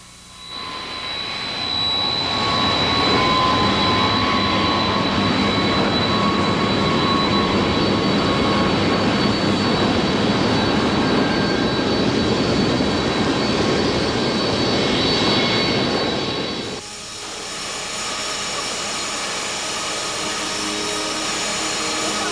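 A jet airliner's engines roar steadily and loud for about seventeen seconds, then drop abruptly to a lower, quieter whine that carries on to the end.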